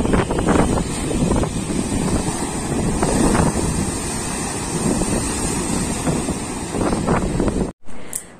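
Sea waves at Digha beach during high tide give a steady, roaring wash, heavily buffeted by wind noise against the microphone, with no speech, ending in a brief near-silent gap.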